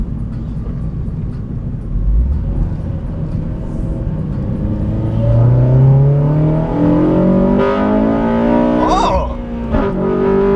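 Honda Civic Si engine revving hard, its pitch climbing steadily into VTEC range, loud and close from inside the cabin, with a brief exclamation from a person.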